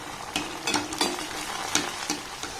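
Grated raw potato snacks fry in hot oil, a continuous close sizzle broken by several sharp crackling bursts as pieces are stirred.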